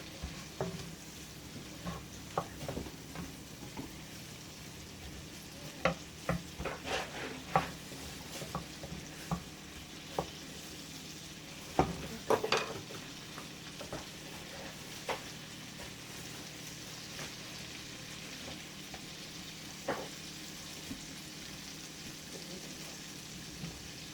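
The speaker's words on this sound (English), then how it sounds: "these shrimp doesn't take long to cook." Shrimp for shrimp Alfredo cooking in a pan, a steady soft sizzle with scattered scrapes and clatters of stirring, heard close and fairly quiet throughout.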